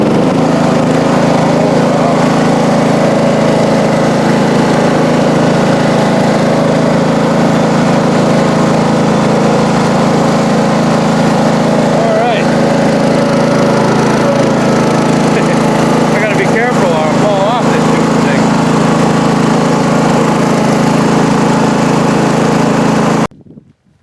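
A John Deere 185 riding mower, started after two years of sitting, runs loud and close with a steady droning engine note for over twenty seconds, slight wavering midway, then cuts off abruptly at the end.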